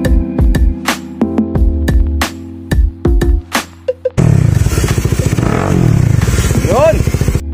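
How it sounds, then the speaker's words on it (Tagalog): A Kawasaki Dominar 400 UG motorcycle fitted with a Yoshimura R77 real carbon slip-on exhaust, first a series of loud blips and throttle pops with gaps between, then a sustained deep rumbling idle, very close and loud. "ang kinabit natin dito ay real carbon Yoshimura R77 Big via slip-on."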